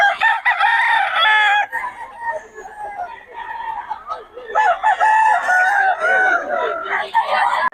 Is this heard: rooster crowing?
yes